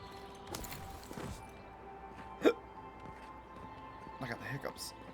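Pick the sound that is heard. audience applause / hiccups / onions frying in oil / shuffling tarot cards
hiccups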